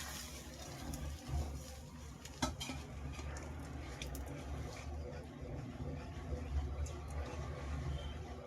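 A spoon stirs upma in a pot, faint scraping and occasional clinks against the metal over a low bubbling background, with a sharper knock partway through.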